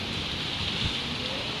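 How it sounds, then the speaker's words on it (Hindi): Heavy rain pours down steadily during a thunderstorm, a dense, constant hiss of drops close by with no voices. "बहुत ज़्यादा बारिश हो रही है"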